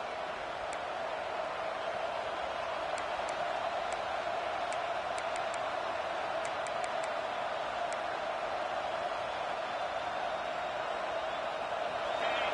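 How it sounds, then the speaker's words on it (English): A football stadium crowd roars in a dense, sustained wash of noise that stays steady throughout, with faint scattered clicks on top and no clear talk. "The roar of the crowd trying to fuel this defense to keep them pinned in their own end."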